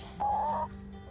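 A backyard chicken gives one short, clear cluck, close and alone against quiet surroundings.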